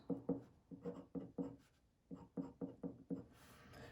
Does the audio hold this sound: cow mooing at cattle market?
no